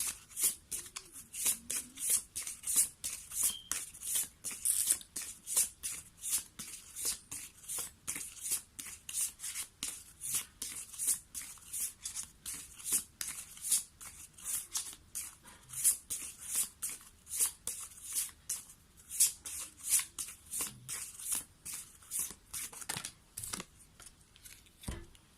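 Tarot cards shuffled by hand in a long run of rapid, crisp riffling flicks, close and fairly quiet, with a steady rhythm and no talk.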